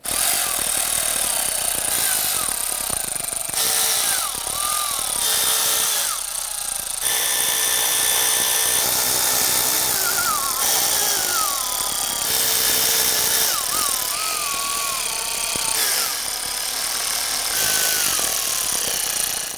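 Power tool running down valve cover bolts on a 2010-2019 Ford Taurus 3.5L engine, heard as a steady close-up whirring and rattling that starts and stops in repeated bursts, with no talk.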